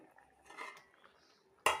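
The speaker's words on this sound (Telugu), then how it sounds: "ఒకసారి మూతీసి చూద్దాం అండి పప్పు ఎలా ఉడుతుందో చూద్దాం" A metal lid comes off a pot of cooking dal with ponnaganti greens: faint scraping and rattling first, then one sudden loud metallic clank near the end, up close.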